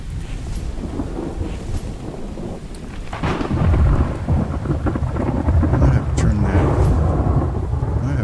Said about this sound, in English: That's that thunder's loud.